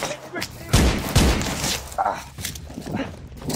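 Gunfire in a tense hide-and-retreat scene, with a few loud bursts and cracks mixed among voices calling out and scrambling movement, fairly close and chaotic.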